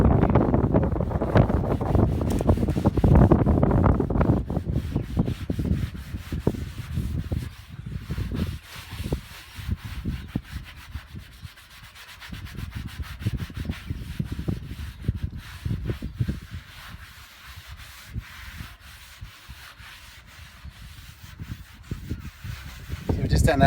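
A car's front guard is rubbed down with 000 steel wool and detergent, a continuous scratchy scrubbing in back-and-forth strokes, close up, with wind buffeting the microphone throughout.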